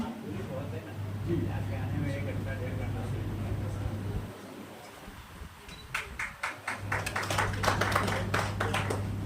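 At a literary award and book launch ceremony, the audience claps to welcome the event chairman; someone speaks over a steady hum first, then scattered applause breaks out, building into sharper, denser claps.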